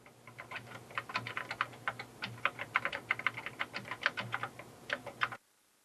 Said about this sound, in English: The selected text is replaced by typing on the keyboard.